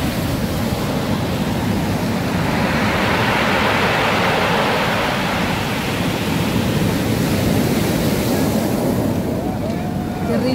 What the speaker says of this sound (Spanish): ¿Escuchan el mar? ¿El sonido del mar?